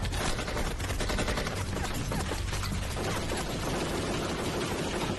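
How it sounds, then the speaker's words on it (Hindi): Rapid automatic gunfire in a dramatized shootout involving Pablo Escobar, loud sustained bursts of shots crackling continuously with no gaps, dense and close over several seconds. "वो हम पर गोली चला रहा है।"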